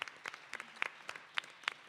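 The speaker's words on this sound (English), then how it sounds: "How about a round of applause for Sophie Daniels?" Sparse audience applause after a performer at a songwriters' circle, a handful of separate claps sounding close and fairly crisp, thinning out rather than building into a full ovation.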